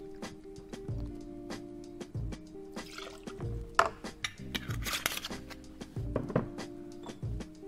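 A 60 ml measure of dark rum is poured for a cocktail, a soft trickle and drip of liquid amid light clinks of bar tools and glassware, fairly close and quiet.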